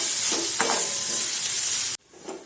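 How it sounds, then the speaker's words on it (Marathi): Onion, ginger and garlic sautéing in a pan with a loud, close, continuous sizzle and a couple of stirring scrapes, cutting off abruptly near the end to a quieter tail. "कांदा आणि आलं लसूण व्यवस्थित शिजेपर्यंत याला छान परतायचं"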